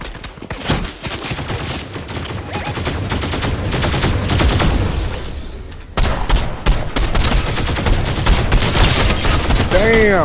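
Gunfire in the video game Fortnite, with rapid bursts and a dense fusillade of shots running loud throughout, partly layered under voices.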